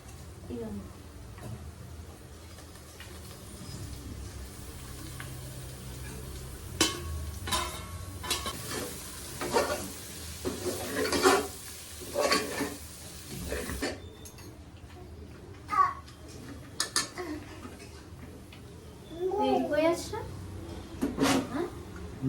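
Tripe frying in a pan in a Telangana-style home kitchen, a low sizzle under intermittent scraping and clinking strokes of a stirring spoon, close by, with people talking over it.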